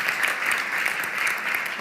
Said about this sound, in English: Please do give her a very round of applause.